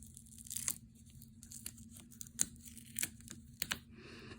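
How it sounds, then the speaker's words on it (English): Sticker backing peeled off the back of a merit badge: several short, dry tearing and crinkling sounds at close range, irregular bursts over a quiet background hum. "There is something that acts like a sticker that you can put on the back of here and stick it on there."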